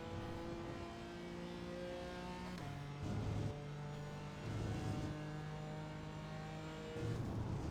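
A BMW M4 GT4 race car on a lap of Silverstone, its engine holding a steady droning note, with brief rises and dips in pitch as the gears and throttle change, heard from inside the car.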